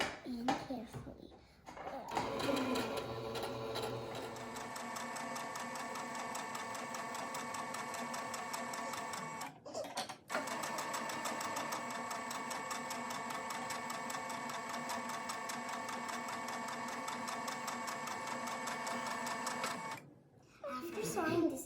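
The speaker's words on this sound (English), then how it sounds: "So it's time to sew it up and seal it." A sewing machine runs in long continuous bursts of rapid stitching on a fabric scrunchie, pausing briefly mid-way and near the end, close and steady with faint voices around.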